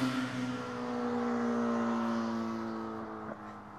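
A Caterham sports car accelerates hard away from a standing start, its engine note climbing through the revs with a quick gear change partway through, loud and steady before easing off near the end.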